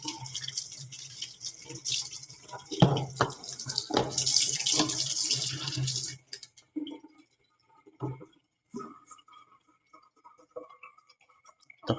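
Water running from a tap onto hair being soaked during a hair-blackening treatment, a steady splashing flow for about six seconds, then scattered drips and small knocks in near silence.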